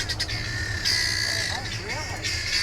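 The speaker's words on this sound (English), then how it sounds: "hear the guinea fowls going off?" Guinea fowl raise harsh, rapid squawking alarm calls near an eagle in Chobe National Park, Botswana, a loud continuous chorus with a voice speaking over it.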